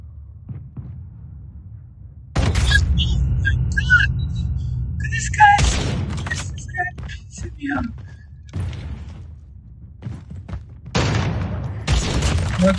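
Call of Duty Mobile gunfire breaks out in several bursts with thumping, booming shots and scattered sharp effects, loud and close, mixed with game sounds.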